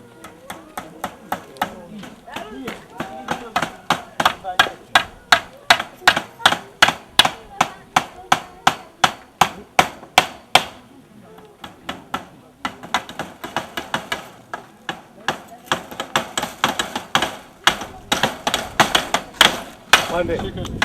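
Small nails are driven into a wooden board with steady, sharp hammer blows, a long close run of regular strikes that pauses briefly midway and then resumes, with voices talking throughout.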